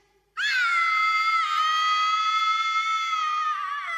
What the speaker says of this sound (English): I scream so loud it stops sounding